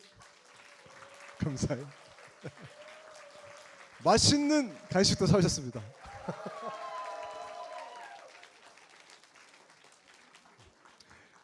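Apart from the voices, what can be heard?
congregation applause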